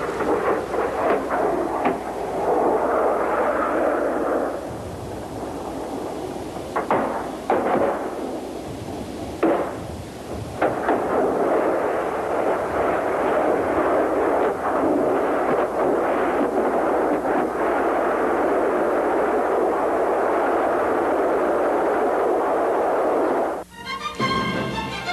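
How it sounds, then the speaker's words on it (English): A missile strike on a fully armed tank, with a loud sustained rumbling blast and crackling roar that keeps going for over twenty seconds, swelling and dipping, with no voices. "The result of a hit on a fully armed tank is spectacular."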